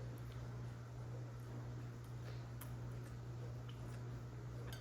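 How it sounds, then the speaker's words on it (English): A dishwasher runs in the background as a steady, faint low hum that holds unchanged throughout, with a few soft ticks over it and no one speaking. "Sorry if you hear the dishwasher in the background."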